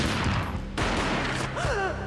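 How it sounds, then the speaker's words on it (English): A single gunshot booms in the Max Payne video game, one loud burst over a dense, continuous game soundscape with low rumble and brief tonal chirps afterward. "A gunshot boomed and she fell down in slow motion."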